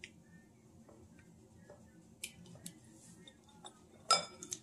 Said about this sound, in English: So I'm going to stir it up to get it all nice and mixed together.